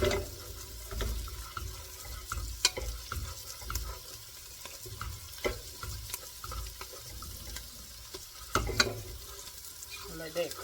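Diced garlic cloves cooking in a pot with cabbage, sausage, bacon and shrimp, a low, uneven sizzle and bubbling punctuated by occasional clinks and clatter, close and quiet with some talk.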